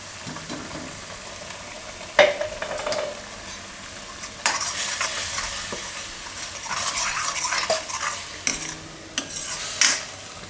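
Gravy of masoor makhni cooking in oil in a pan, a steady sizzle and frying hiss with repeated scraping stirs and clinks of a spoon against the pan, close and alone.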